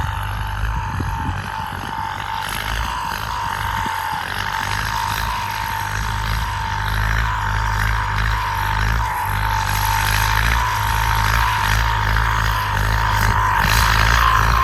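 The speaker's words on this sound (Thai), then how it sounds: "เรื่องเสียงหอน นี้ลูกค้าบอกได้เลยนะครับ ต้องการหอนแรงหอนเบานะครับ" A diesel engine with an old Japanese turbocharger runs steadily up close with a sustained high-pitched turbo howl over its low rumble, swelling slightly louder toward the end.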